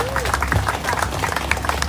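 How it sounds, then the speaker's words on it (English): Scattered clapping from a crowd amid background chatter, with a brief whoop; the applause is moderate and steady rather than a loud ovation. "Give it a round of applause."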